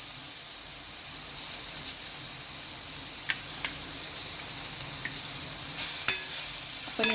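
Onion with garlic and green chili paste sautéing in a pan for a wild leafy vegetable dish makes a continuous soft hiss and sizzle, with occasional faint clicks of stirring and no voices.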